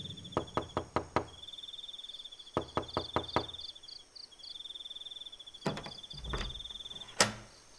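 Sharp knocks on a wooden door come in three quick clusters of several raps each, close and crisp, over a steady chirping of crickets in the background.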